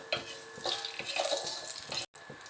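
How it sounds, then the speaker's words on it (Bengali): Black cumin seeds stirred into hot mustard oil in a pan, giving a soft crackling sizzle with scraping stir strokes, close and steady, with a brief drop to silence near the end. "সর্ষের তেল গরম হয়ে গেলে তার মধ্যে কালো জিরে দিতে হবে সামান্য পরিমাণে দিয়ে একটু নেড়ে নিতে হবে"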